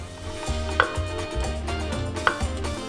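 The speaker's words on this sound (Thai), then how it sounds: "ก็ทุบเบาๆนะครับ ให้มันแบบพอเข้ากัน" Eggplant is lightly pounded with a pestle for an apple papaya salad, giving soft rhythmic thuds about twice a second, close by, with a couple of sharper knocks and no talking.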